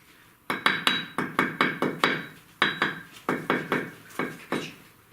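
A hammer taps bricks while a fireplace is being built, with sharp ringing knocks coming in quick irregular bursts of several blows each, close and clear with no talk.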